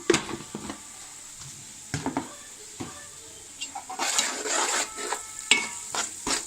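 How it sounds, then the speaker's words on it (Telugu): Onions with turmeric and salt stir-fry in a pan, a moderate sizzle swelling in bursts under sharp scraping and clacking of a spoon against the metal pan. "మొత్తం బాగా కలిసే వరకు ఫ్రై చేసుకోవాలి"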